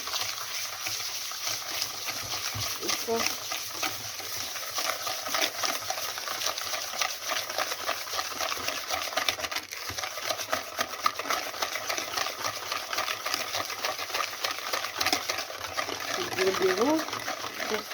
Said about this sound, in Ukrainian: Зараз розтираю яйце з цукром